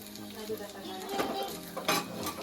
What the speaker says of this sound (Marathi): आता ती फक्त तेलामध्ये थोडा वाफवून घेते